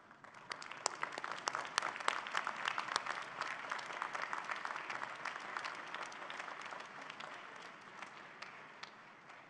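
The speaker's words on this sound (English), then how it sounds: "give them a warm round of applause for supporting your journey" A graduating class at an autumn university convocation applauds their families, a dense, steady roar of many hands clapping that swells early and holds evenly for about ten seconds, heard from some distance.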